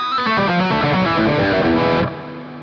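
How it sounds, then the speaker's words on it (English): Electric guitar through a Boss Waza Tube Amp Expander with a long hall reverb: sustained, lightly distorted chords and notes ring out for about two seconds, then the wash of reverb tail lingers and fades on its own. "And now we've got this lovely long hall reverb."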